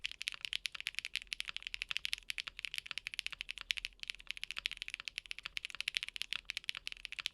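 Someone types quickly on a Monsgeek M1 mechanical keyboard, producing dense, fast, close clacking keystrokes at a steady rhythm that carry on unbroken and alone.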